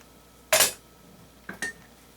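A metal pot lid clanks sharply onto cookware, followed a second later by two lighter rattling clinks, close and clear in a quiet kitchen.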